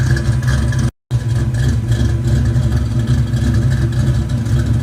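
A Ford 351 small-block V8 running on a dyno produces a loud, continuous low rumble and a steady lopey idle. The sound drops out for a moment and then comes back.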